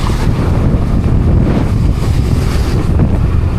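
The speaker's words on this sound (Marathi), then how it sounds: "आणि वरून मस्त असे धबधबे झरे कोसळत आहेत" Waterfalls and streams pour down from above in the Sahyadri hills near Igatpuri, Nashik, a steady, loud, broadband rush that is partly smeared by wind buffeting the microphone, with no voices.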